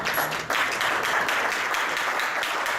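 Steady applause from an audience at a boxing press conference, a dense patter of many hands clapping at even loudness for a few seconds with no one speaking.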